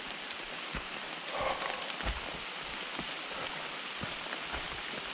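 Steady rain falls with a constant hiss, scattered drops tapping nearby surfaces at irregular moments; no voices.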